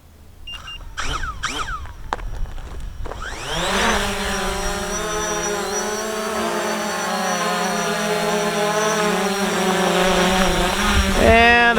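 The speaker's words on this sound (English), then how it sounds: "Let's go ahead and hit takeoff on the controller here." A Fimi X8 SE drone spins up and lifts off beside the Snake River, its rotors rising into a loud, steady multi-tone whine that keeps building and holds, after a few brief clicks and bumps at the start.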